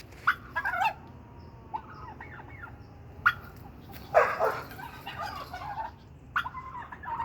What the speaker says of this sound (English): Man, these turkeys.